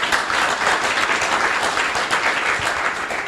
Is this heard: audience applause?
yes